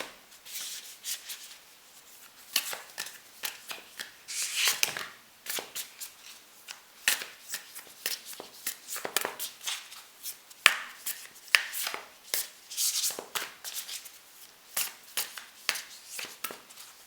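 Tarot cards are shuffled by hand in repeated bursts of crisp riffling and slapping, close and fairly loud, with short pauses between passes.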